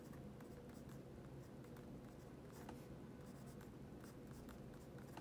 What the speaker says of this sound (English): Do a quick writing test.